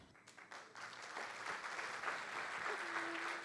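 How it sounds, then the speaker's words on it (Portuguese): A church congregation at a worship service breaks into applause: a faint, fairly distant wash of clapping that builds slightly and holds steady, with a low sustained tone near the end. "E com as nossas salvas de palmas"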